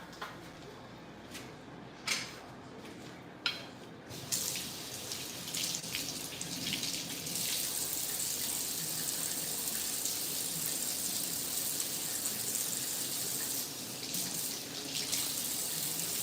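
A frozen banana is held under a running kitchen tap, with a few faint clicks and handling knocks before the water starts and then hisses steadily for several seconds, close and unbroken.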